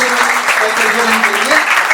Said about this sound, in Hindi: मिस्टर अंकित खरे जी के लिए एक बार जोरदार तालियां हो जाए के लिए।